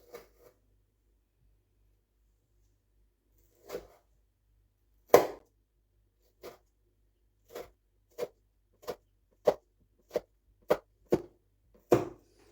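A knife cuts a raw potato for chips on a board, a series of crisp, close chopping clicks, sparse at first and then coming at a steady, quickening rhythm in otherwise quiet surroundings.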